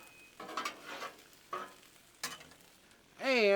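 Sausages and other food being pushed across a hot Blackstone griddle with a spatula, a few separate scraping sweeps over a faint sizzle, ending in a sharp metallic squeal.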